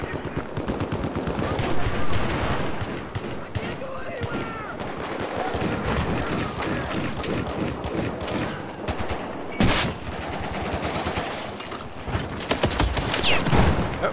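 Battlefield 4 game audio carries rapid bursts of automatic gunfire and scattered single shots throughout, loud and continuous, with players talking over the shooting.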